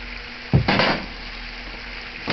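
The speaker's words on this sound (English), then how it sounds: "Our water is boiling, so we're just going to leave that on and let it cook." Pork gyoza cooking in boiling water in a heavy-bottomed skillet, giving a steady low sizzle and bubbling with a couple of louder hissing bursts and a faint clink of a pan.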